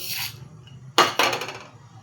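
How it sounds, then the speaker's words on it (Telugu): Tempering seeds drop into hot oil in a pan for gongura pachadi, giving two loud, close bursts of crackling sizzle that fade quickly, with a brief hiss before them. "ఆయిల్ వేడెక్కిపోయింది. ఇప్పుడు తాలింపు గింజలు వేసేసుకుందాం."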